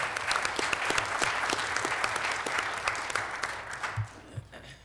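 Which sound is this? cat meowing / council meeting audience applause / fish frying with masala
council meeting audience applause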